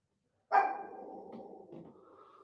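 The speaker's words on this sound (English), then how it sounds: "My dog is barking." A single sharp dog bark starts suddenly and trails off into a lingering whine, close by and alone in an otherwise quiet indoor room.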